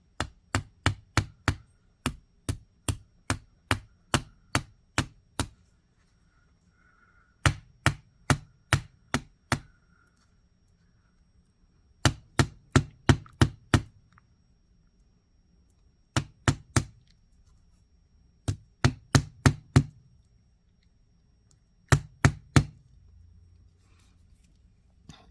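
A hammer strikes a metal chain link on a bench block in sharp, quick clusters of taps with pauses between groups, crisp and close in an otherwise quiet room.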